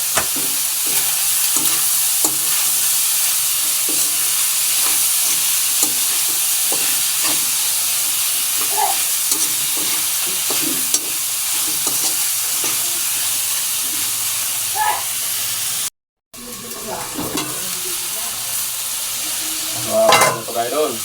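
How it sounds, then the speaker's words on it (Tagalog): Garlic and tomatoes fry in hot oil for a pork-in-coconut-milk dish, giving a loud, constant sizzle with scattered stirring scrapes. There is a brief break, then the sizzling resumes. "Nagmantika na ka-idol. Lagay ko na yung bawang. Mga ricado, sabay ko ng kamatis ng ka-idol."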